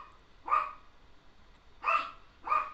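A small dog barks three times, short sharp yaps with a long pause after the first and two quicker barks near the end, close and fairly loud over a quiet background.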